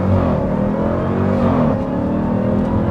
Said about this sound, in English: We're going to take this for a drive.